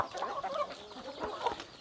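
Chickens on a farm field cluck softly and continuously, close by at low volume, with no other sounds standing out.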